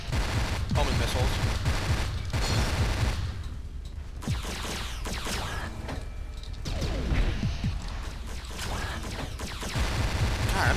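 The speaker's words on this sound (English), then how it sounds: "Yeah, you gotta watch out for these cyclone missiles. They are homing missiles, for the most part." Rapid bursts of homing cyclone missile fire in the Descent 3 video game, loud and dense, with repeated sharp launches and mechanical clatter layered over a continuous roar of battle.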